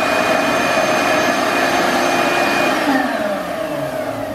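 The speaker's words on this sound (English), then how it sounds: "I'm vacuuming." A vacuum cleaner runs over a floor during bathroom floor prep, making a loud, close, continuous roaring drone whose pitch sags slightly near the end.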